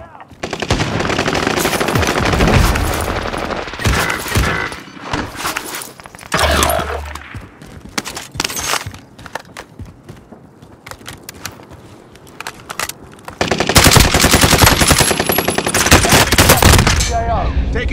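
Gunfire in the video game Call of Duty Warzone, loud bursts of automatic weapon fire and single shots in rapid clusters, broken by quieter gaps before a sustained final volley.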